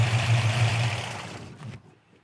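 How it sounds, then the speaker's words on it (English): A 1965 Chevelle with a built 350 V8, solid lifters and an old high-rise intake idles close by with a steady low rumble, then cuts off abruptly toward the end, leaving near silence. "solid lifters, so that's the noise you hear"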